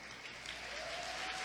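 A large audience applauds award winners at Gamescom 2019 Opening Night Live, a dense, steady wash of clapping that builds slightly over a brief stretch.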